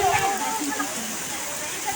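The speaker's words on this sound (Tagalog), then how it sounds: "Kahit na lakas ng ulan doon." Heavy rain pours in a dense, constant hiss at close range while people talk nearby.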